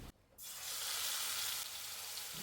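Crushed onion drops into hot coconut oil in a pan, bursting into a loud, bright sizzle that holds steady and eases a little toward the end, with no talking.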